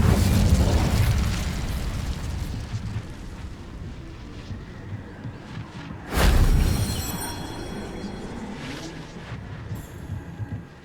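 A fire spell blast from Incendio in the game Hogwarts Legacy, with a rumbling burst at the start, low crackling, and a second sharp explosion midway that decays into a fading roar.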